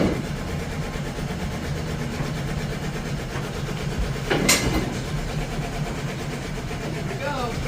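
A 1951 Ford F1 truck engine runs steadily while driving in third gear after sitting for 20 years, with a continuous loud rumble inside the cab and a brief clank partway through.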